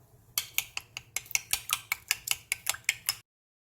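Egg mixture with brown sugar whisked in a bowl, about fifteen quick, rhythmic clinks of utensil on bowl, close and fairly quiet, before stopping abruptly into silence.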